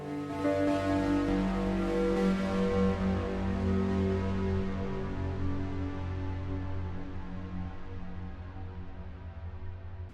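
A giant boomerang delay from the Deelay plugin smears a dense harmonic sound into long repeating echoes that hold steady and slowly fade over about ten seconds, loud and alone.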